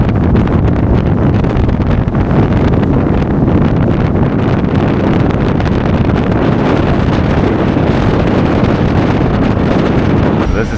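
Strong 60-knot wind buffets a ship off South Georgia Island, a loud, continuous roaring gust noise with heavy microphone buffeting that never lets up.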